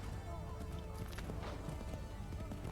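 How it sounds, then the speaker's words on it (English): Horse hooves clip-clop at a quick gait in Assassin's Creed III on the Wii U, faint and buried under a loud, dense battle soundscape with speech. "Ah, come on, horse."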